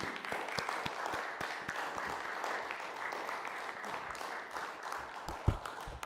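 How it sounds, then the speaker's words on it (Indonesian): A crowd applauds steadily at the opening of an oil field's first production, many hands clapping in a dense, sustained patter with a few sharper claps standing out. "Sekali lagi kita berikan tepuk tangan yang meriah."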